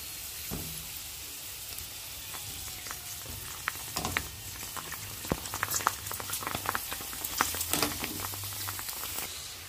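Dough pieces dropped into hot oil, frying and puffing up in a pan; a steady soft sizzle with crackling pops and occasional stirring clinks, close and fairly quiet, with no talking.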